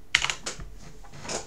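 Keys tapped on a computer keyboard, a short burst of a few quick clicks and clacks, close and alone.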